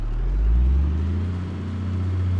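Truck engine idling in the BeamNG driving game, a steady low rumbling drone with a slight swell in revs early on, heard alone without talk.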